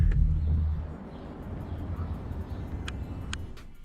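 A Cadillac Escalade with a 6.2L direct-injected V8, just repaired with new fuel injectors, drives around the block, giving a low engine rumble that is strongest at first and then settles into a softer steady hum.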